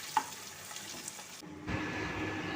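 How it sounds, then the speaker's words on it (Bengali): Tomatoes and green chillies fry in a pan with a soft sizzle, stirred briefly, before the sound shifts to a steadier, denser hiss partway through. "এগুলো ভালো করে একটু নেড়ে চেড়ে ঢেকে দেবো।"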